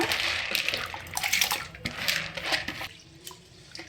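Rice and lentils being washed together for dosa batter, with water splashing and sloshing in a bowl in uneven bursts, close and fairly loud, easing off toward the end.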